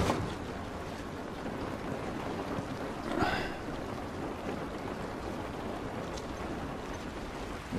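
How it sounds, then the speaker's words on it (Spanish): Rain falling in the video game The Last of Us, a faint, steady wash of hissing noise with a soft gust near the middle. "Esta lluvia no nos ayudará."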